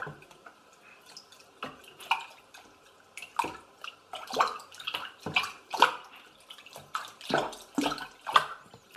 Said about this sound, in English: I'm splashing water everywhere